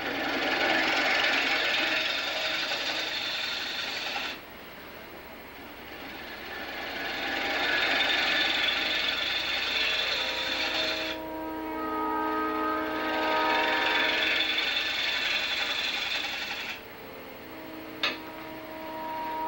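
Scraper cutting on a wood lathe as it turns a segmented wooden platter: a steady broadband hiss in three long passes, each several seconds, separated by brief quieter gaps where the tool lifts, with a sharp tick near the end.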